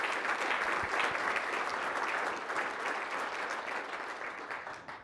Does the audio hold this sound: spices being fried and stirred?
no